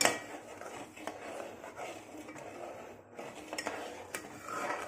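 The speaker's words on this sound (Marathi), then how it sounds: "सतत ढवळत राहायचं" Rabdi, sweetened milk, is stirred in a pot with a spoon, giving repeated scraping and rubbing strokes against the metal with light clinks, fairly close and with no talking.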